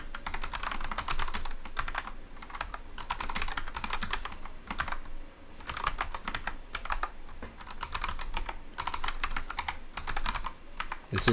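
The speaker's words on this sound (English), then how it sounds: "This is repetitive typing," Steady, fast typing on a computer keyboard, close and continuous, with brief pauses between bursts of clicking keys and no voices.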